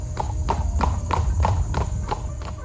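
Horse hooves clip-clop at a steady trotting rhythm as a chariot is drawn along, about eight to nine crisp, evenly spaced beats over a low rolling rumble. The sound is close and clear, with no talk over it.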